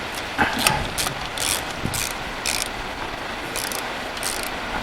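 A wrench ratchets bolts on the rear differential of a 1949 Chevy: repeated bursts of ratchet clicking at close range, in short runs separated by brief pauses, with no talking.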